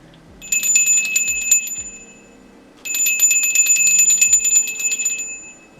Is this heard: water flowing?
no